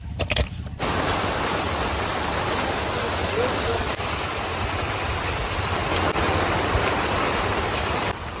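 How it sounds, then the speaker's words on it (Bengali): Steady rain pours down in a dense, continuous hiss, starting abruptly after a brief quiet moment and holding constant throughout. "হঠাৎ করে আবার এই যে বৃষ্টি আসছে পড়ছে"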